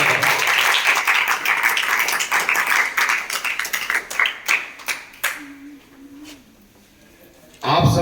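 Loud applause and clapping from class 6 and 7 students at a school mathematics session fill the first five seconds, then drop away to a quiet voice before a short burst of noise at the end.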